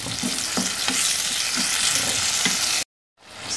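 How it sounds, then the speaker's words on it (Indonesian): Carrots cook in a pan with a little water added, a loud dense sizzle with rhythmic stirring scrapes, cutting to silence briefly before the hiss returns. "masukkan wortelnya. Dikasih air dikit ya teman-teman ya, supaya empuk wortelnya ya"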